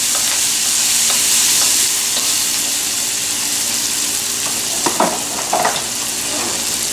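A vegan stir-fry sizzles loudly and steadily in a pan, close up, with a few scraping stirs as it is pushed aside near the end. No one speaks.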